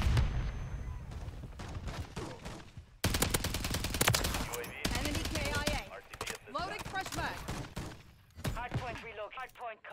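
Rapid gunfire from a VTOL aircraft in Call of Duty MW3 rattles in dense bursts, with a loud sustained stretch in the middle and scattered shots alongside game sounds and voices.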